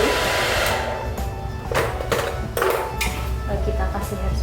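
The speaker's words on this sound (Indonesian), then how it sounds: "Setelah di hairspray, kita hair dryer bagian dalamnya supaya dia kaku" A hair dryer blows steadily on hair stiffened with hairspray while shaping a sunggar hairpiece, a continuous close whooshing hum with brief shifts as the nozzle moves, and some voice in the background.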